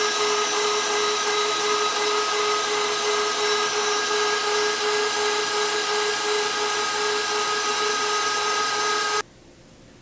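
An electric mixer whipping egg whites for a strawberry shortcake batter, a steady high whirring motor hum running continuously and close, then cutting off abruptly near the end.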